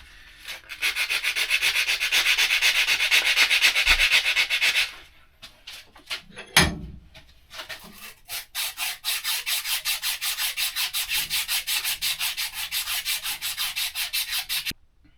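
Hand sanding a steel brake or clutch pedal shaft from a 1986 Ford F250 with 220 grit sandpaper, steady rhythmic back-and-forth rasping strokes close up, with a short pause and a sharp clunk midway before rapid strokes resume.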